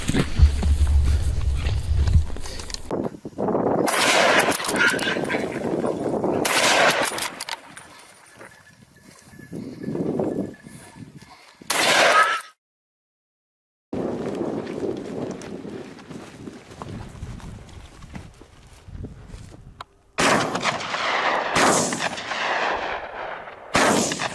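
Several loud gunshots ring out outdoors during a wild boar hunt in Turkey, sharp bangs scattered among rustling and movement noise, with brief pauses between bursts.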